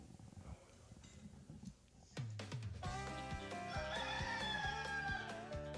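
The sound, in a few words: rooster crowing, radio station ident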